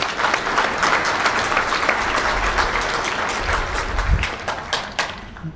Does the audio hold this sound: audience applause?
yes